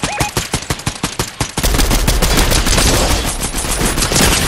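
Rapid gunfire in a shooter video game: a string of distinct sharp shots in quick rhythm, then a dense, loud continuous burst of automatic fire with no talking.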